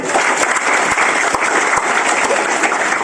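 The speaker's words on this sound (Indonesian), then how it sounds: "Aplaus untuk kita." Audience applause from a seated crowd at a talk, dense steady clapping filling the whole stretch at a loud, even level with no voices over it.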